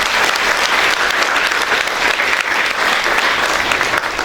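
An audience at a school day celebration, Medha Manyata Divas, breaks into loud, sustained applause for a singer, a thick even roar of many clapping hands filling the room with no break.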